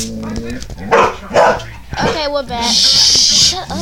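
A dog barks several times in short bursts close by, mixed in with a person talking loudly over it.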